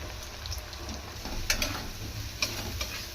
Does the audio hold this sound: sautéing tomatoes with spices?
yes